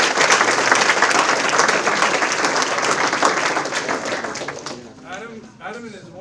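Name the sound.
audience round of applause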